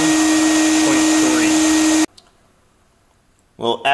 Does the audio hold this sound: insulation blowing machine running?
yes